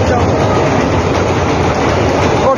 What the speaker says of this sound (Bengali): ও ট্রেন দেখছে